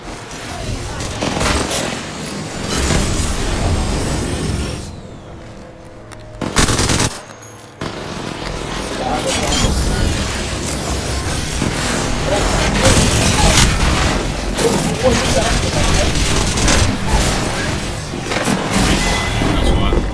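Video game gunfire rattles in rapid automatic bursts with scattered booms, loud and close, broken by a brief near-silent gap, with players talking over the shooting.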